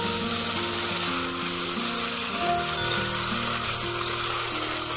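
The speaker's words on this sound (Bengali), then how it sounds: "জিরা, আদা, রসুন, লঙ্কা, পেঁয়াজ আর টমেটোর ওই যে পেস্টটা হবে ওইটা দিয়ে ভালো করে কষতে থাকবো।" A paste of cumin, ginger, garlic, chili, onion and tomato fries in mustard oil with a steady, close sizzle and soft scraping, continuous throughout without any talk.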